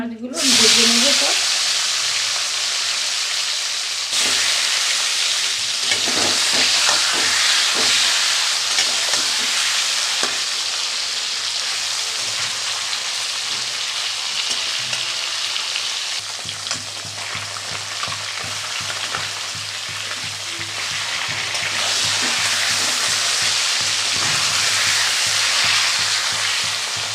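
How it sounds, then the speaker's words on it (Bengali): Rohu fish sizzling in hot oil in a pan, a loud, dense, continuous frying hiss that holds steady throughout with occasional stirring scrapes, no talking. "আর এই মাছগুলো ভেজে নেবো সব।"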